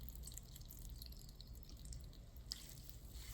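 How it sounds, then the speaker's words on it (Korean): Water drips faintly from squeezed, blanched dureup shoots being prepared for pickling, a few soft drops and a small splash near the end against a quiet kitchen background. "장아찌 담을 거는 이렇게 물기를 이렇게 꽉 짜주세요"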